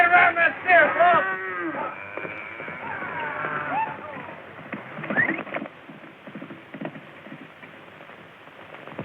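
Cattle mooing in a 1936 frontier Western, a few drawn-out lowing calls early on, then fading under background activity and talk.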